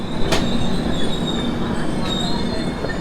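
The Falaknuma SF Express 12703 rolls into Balasore railway station on platform 2. Loud, close wheel squeal rings out in steady high whines over the rumble of railway carriages.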